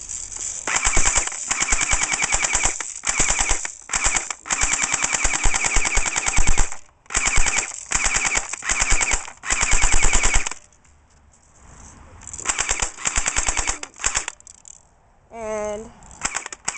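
Airsoft guns fire full auto in long rapid bursts of sharp, close, loud clatter, broken by brief pauses and ending with rattling and mechanical clicks.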